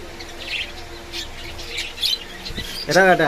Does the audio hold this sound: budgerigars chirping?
yes